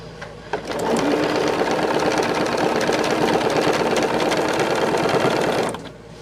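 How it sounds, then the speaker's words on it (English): A sewing machine runs one long, loud, continuous burst, stitching binding onto a bag at a 3/8 inch seam, with the motor's steady whir close up and a short start and stop at each end. "I sew it at the 3/8 inch, so the front and the back binding pieces come out the same."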